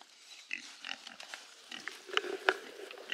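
A group of farm pigs grunt and snuffle at close range, with short irregular grunts and a few sharper squeaky snorts layered over one another.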